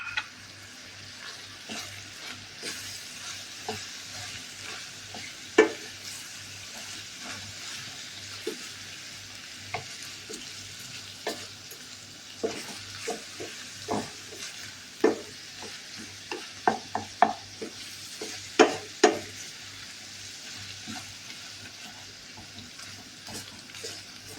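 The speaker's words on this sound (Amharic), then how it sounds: "እንደዚህ ከተጠበሰ በኋላ ያሹት" Minced meat for sambusa filling sizzles steadily in a pan, with scattered sharp clicks and scraping stirs growing busier toward the end, close and fairly quiet, no voices.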